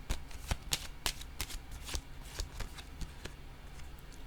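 Playing cards shuffled for a tarot-style card reading, a run of sharp riffling bursts and flicks repeating every half second or so, close and fairly loud with no voice.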